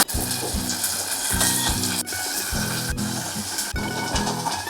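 Marinated mutton frying in a pan with onion, a loud, close sizzle with repeated rhythmic scraping strokes of stirring throughout.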